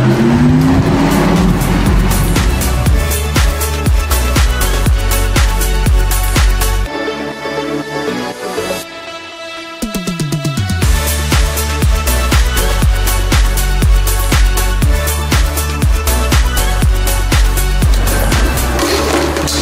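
Porsche sports car driven hard on a race track: loud, rasping engine that repeatedly revs up and shifts gears, with a brief quieter lull midway before it accelerates hard again.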